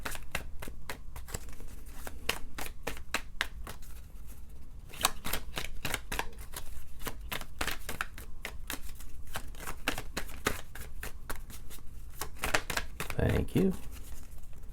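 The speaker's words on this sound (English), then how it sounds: "So I'm going to shuffle as soon as a card comes out." Rapid papery riffling of tarot cards being shuffled, in repeated bursts of crisp flicks with short pauses, close up, lasting throughout.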